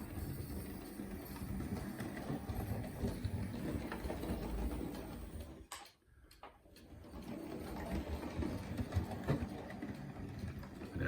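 A cheap toy fair model West Country class locomotive with a 5-pole motor runs on track, a faint continuous buzzing whir with rail clatter that briefly drops away before resuming.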